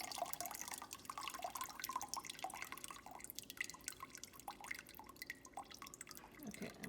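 Water draining and dripping from a container of sprouting lentils, a close, irregular patter of drips and trickles that thins toward the end, with no voices.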